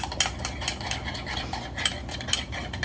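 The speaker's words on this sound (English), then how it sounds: "We're gonna stir it." A spoon stirs a meal prep mixture in a bowl, scraping and clinking against the sides in quick irregular strokes, close up with no talking.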